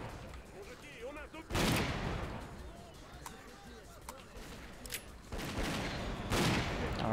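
Gunfire in the S.T.A.L.K.E.R.: Clear Sky video game, with loud bursts of shots around 1.6 s, 5.3 s and 6.5 s over a busy, noisy background, while a person talks.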